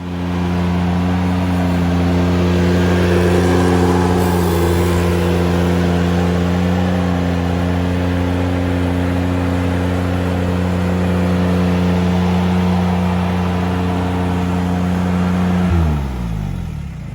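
A Ventrac compact tractor's engine runs loud and close with a steady, strong harmonic drone, holding an even pitch for about fifteen seconds before it drops away as the revs fall near the end, with no talking.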